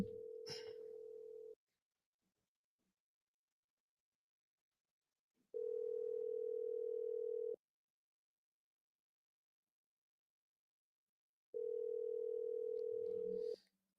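An outgoing telephone call rings through the earpiece: three long, steady, low tones, each about two seconds, separated by roughly four seconds of silence, with faint noise at the start and end.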